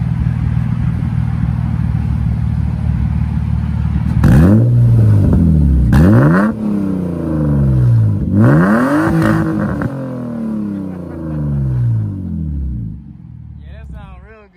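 A sports car with a custom exhaust revs repeatedly, rising and falling in loud throaty sweeps, while people talk nearby.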